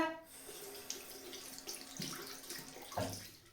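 Tap water runs onto the tip of an electric cleaning brush, a continuous splashing stream with shifting splatter and a brief sharper gush near the end, close and clear.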